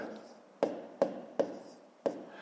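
Handwritten numbers for a column multiplication in a maths exercise, four sharp, separate pen taps and strokes on paper at a steady pace over a faint background.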